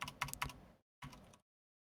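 Close, quiet clicks of typing on a computer keyboard, a quick burst of keystrokes, a short pause, then another brief burst before silence.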